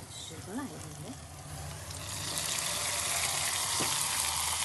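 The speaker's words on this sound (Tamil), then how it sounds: "இப்போ வந்து நம்ம அரைச்சி வச்ச தக்காளி பேஸ்ட்டை வந்து நம்ம இது கூட ஆட் பண்ண போகிறோம்." Ground tomato paste goes into onions deep-frying in a pan, the sizzle swelling into a loud, steady frying hiss, with a voice speaking briefly over it at the start.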